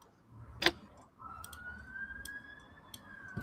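A police siren sounds outdoors at a distance, faint and steady under quiet background noise, with a few nearby clicks and taps.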